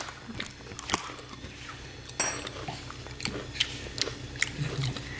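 Close crunching and chewing as a chimpanzee eats crunchy cookies, with scattered clinks of a spoon against dishes, irregular bites and small clatters over a quiet background.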